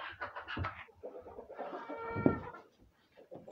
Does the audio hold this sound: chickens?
yes